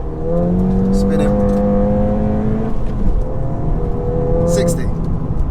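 A stage 1 Ford Fiesta ST launches hard with wheel spin, its engine note climbing loudly in rising revs, then dipping and climbing again, with a person talking over it.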